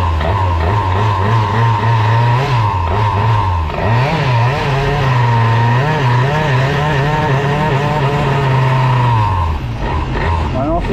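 Bidalot RF 50 WR motorcycle engine blipped with small throttle openings, a loud close buzzing idle that rises and wavers in pitch before settling, with someone speaking over it.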